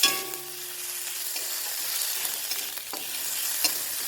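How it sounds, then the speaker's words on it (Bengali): Spices frying steadily in a pan for a fish-head moong dal, a continuous close hiss with a few soft stirring scrapes and clicks, no voices. "দেখুন আমার সব মশলা ভাজা ভাজা হয়ে গেছে"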